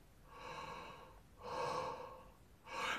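Slow, audible breaths drawn through an open mouth as a breathing exercise, three drawn-out airy breaths, close and fairly soft, with no talk.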